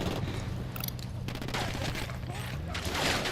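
Sustained gunfire from Ghost Recon Wildlands, a dense rapid fusillade of shots running through the whole stretch, loud and steady against a busy game soundscape.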